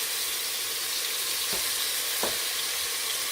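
Ground hamburger meat browns in a hot pan for hamburger soup, giving a steady, close, dense sizzle throughout, with two brief soft taps partway through and no voices.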